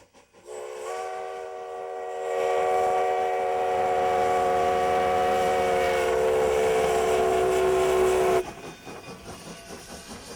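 A New Mexico scenic railroad train whistle blows one long, loud, sustained chord-like blast, rising in strength before cutting off, with rumbling rail noise after.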